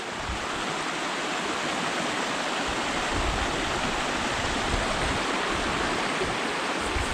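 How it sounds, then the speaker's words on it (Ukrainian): A steady, loud rushing of several rivers flowing together in the Carpathians fills the whole stretch, broad and continuous with no voices. "тут поруч декілька річок. І вони вон там сходиться в одну"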